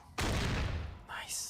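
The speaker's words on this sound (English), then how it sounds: "The sound of that hand cannon." A hand cannon fired in the video game Fallout: one sharp, loud gunshot with a heavy booming tail, followed by fainter tonal game sounds.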